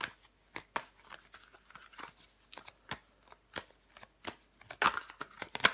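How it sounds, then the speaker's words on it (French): Tarot cards being shuffled and turned over at a reading, a string of sharp close riffles and flicks in irregular bursts, with a louder slap near the end and no talk. "On va recouvrir des cartes."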